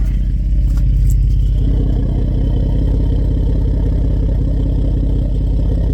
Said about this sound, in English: I really do like the idle sound